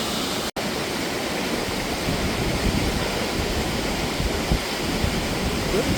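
Steady, broadband rush of falling water from Yongchu Falls on Dutasan in Donghae, South Korea, heard from a distance, continuous and unbroken for the whole stretch.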